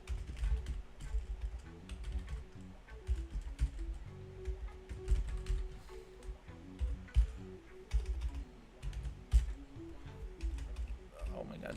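Rapid, uneven keystrokes on a Spanish-layout computer keyboard, close and clattering in bursts with short pauses, steady for several seconds with a low hum underneath.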